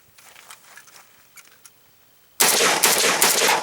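An AK-47 rifle fed from a Thermold magazine fires a rapid string of loud, close shots that continue to the end, after a quieter stretch of faint handling clicks and rustle.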